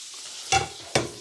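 Catfish pan frying in a pan, heard as two short, loud bursts of sizzling as pieces are moved or turned in the hot oil, with quiet background between them.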